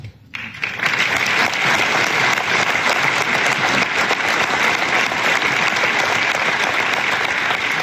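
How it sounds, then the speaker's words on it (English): A large audience at a fishing industry trade-show award ceremony bursts into sustained applause, building quickly after a brief quiet start and holding loud and steady throughout. "Come on, keep clapping for the money."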